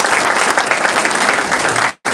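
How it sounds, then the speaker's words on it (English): Applause from an audience at a Phi Theta Kappa induction ceremony, a steady loud round of clapping that fills the room and then cuts off abruptly near the end. "So let's give Brianna a quick round of applause."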